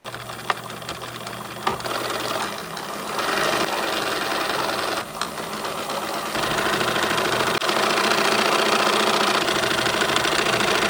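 Sewing machine stitching scrap fabric for a bucket bag, a continuous loud mechanical whirring and knocking hum that steps up in intensity partway through and runs steadily without talk.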